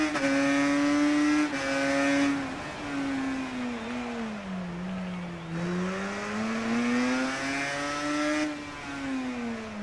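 A Suzuki RG500 500cc two-stroke racing motorcycle in RIDE 3 screams loudly up close, its pitch climbing through each gear, dipping, then rising again, with brief breaks at the shifts.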